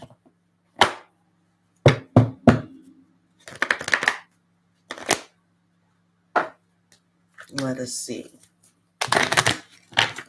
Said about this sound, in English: Around here, we shuffle 4 times and then we cut 4 times.